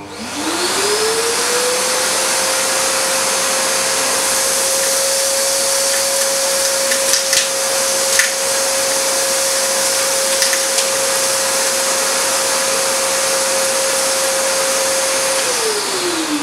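A shop vac fitted with a screw collector spins up, holds a loud, steady whining roar for about fifteen seconds with a few brief rattles of debris, then winds down.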